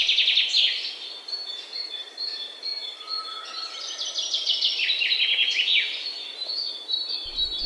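Many birds chirp and trill in a quiet backwater on Munroe Island, overlapping high calls near and far with insect-like buzzing, no voices.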